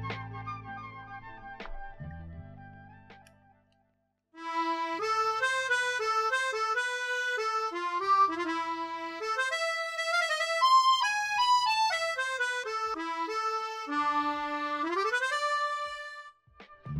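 An Artinoise Re.Corder digital recorder set to a bandoneon voice plays a reedy, sustained melody of shifting notes for about twelve seconds, clear and close, after a few seconds of low, quiet sound at the start.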